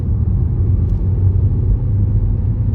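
A car engine fitted with an aftermarket RaceChip tuning module gives a low, steady grumble, close and continuous, with no voices.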